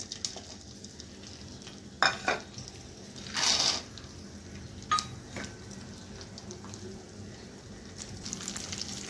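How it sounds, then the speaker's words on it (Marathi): Peanuts and split dal being stir-fried in a pan for poha chivda: soft frying sizzle with scattered spoon scrapes and clinks against the pan, some louder stirring bursts. "आता आपण हे छान परतवून घेऊया।"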